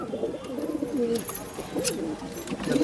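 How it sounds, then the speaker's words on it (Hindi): Border-bred breeder pigeons give a few low, throaty coos in quick succession, near and moderately loud over light background hiss. "कबूतर है माशाल्लाह बहुत उमदा कबूतर है।"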